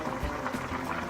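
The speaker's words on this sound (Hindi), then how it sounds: "पानी उबल गया है" Brief low bubbling of water boiling in a pot for biryani rice, a soft continuous rumble close by.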